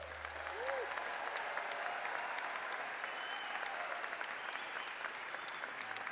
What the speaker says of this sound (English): Will you give our graduates a round of applause?